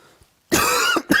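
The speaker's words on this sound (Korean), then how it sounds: "또 기침이요." A single loud, close cough during a lecture, a short harsh burst followed by a second quick cough after a brief gap.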